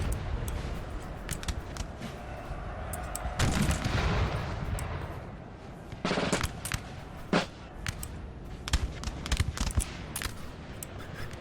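Artillery fire during a 3v3 multiplayer battle in the video game Napoleon: Total War, with scattered booms and crackling musket-like volleys repeating over steady battlefield din, at moderate distance and without voices.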